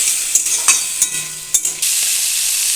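Prawns frying in a wok, a steady close hiss of hot oil broken by several sharp clatters of stirring, settling into a continuous loud sizzle.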